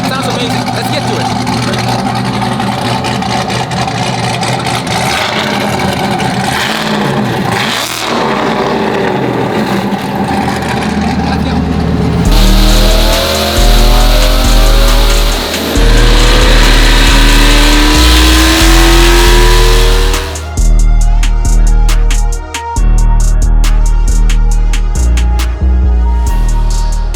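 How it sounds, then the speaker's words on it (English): A supercharged C8 Corvette with a built heads-and-cam motor revs loudly and close by, its engine climbing and dropping through several sharp throttle blips in quick succession. "The heads and cam, built motors, supercharged. Sounds amazing."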